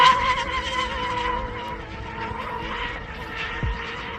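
A huge five-foot Rampage twin-cat RC boat makes a full-throttle pass, its high, steady motor whine holding loud throughout before a brief downward sweep near the end as it goes by.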